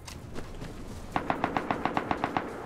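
AK rifle fire in the video game Rust, a quick burst of about ten evenly spaced sharp shots after faint background noise, fairly close and loud.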